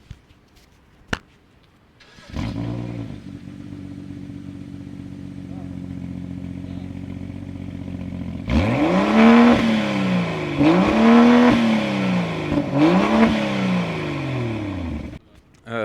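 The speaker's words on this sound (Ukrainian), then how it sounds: "а цей мотор, до речі, розкручується до 7 тисяч обертів" A BMW X4 M40i engine idles with a steady rumble, then revs up hard several times in quick bursts, the exhaust roaring loudly and close by.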